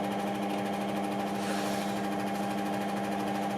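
A scroll saw, not bolted to the bench, runs at a slow variable speed, making a steady mechanical buzz and hum with an even vibrating drone that continues unbroken and close by.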